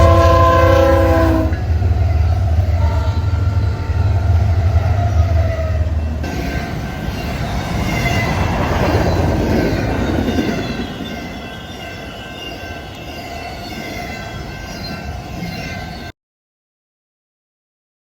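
A westbound Z freight train passes close by. A loud horn blast opens, then a long rumbling roll of wagons with clickety-clack follows and slowly fades before the sound cuts off abruptly.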